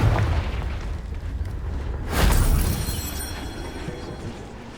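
A Confringo fire-blast spell explodes in Hogwarts Legacy: a single loud boom swells about halfway through over a low, steady rumble of game ambience, then fades.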